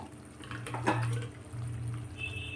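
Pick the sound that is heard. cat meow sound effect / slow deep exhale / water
water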